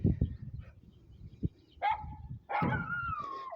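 A dog outdoors gives a few scattered barks and yips, a short whining call and a longer drawn-out whimpering cry near the end, fairly close but not loud, with low background rumble.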